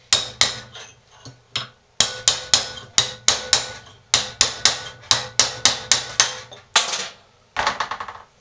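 Hammer striking the ragged edges of a steel arrowhead cut from a spoon, a rapid series of sharp, ringing metallic blows in uneven bursts, loud and close.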